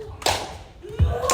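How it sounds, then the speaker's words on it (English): People in a dance class clap their hands together, with a couple of distinct claps separated by a pause. "can I see everybody clap your hands together"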